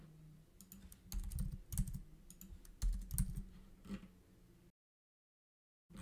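Rapid keystrokes on a computer keyboard while code is copied and pasted in a Swift programming session, clustered in brisk bursts of clicks, close and clear with no talking, ending in a short silence before a last faint tap.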